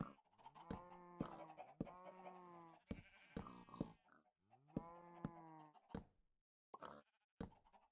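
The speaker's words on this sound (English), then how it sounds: "I keep on hearing the cows and I'm like, is that a zombie? No, it's just a cow." Blocky cows lowing in Minecraft, a string of drawn-out nasal moos and shorter grunts, fairly close and clear, coming one after another with brief gaps and no talk.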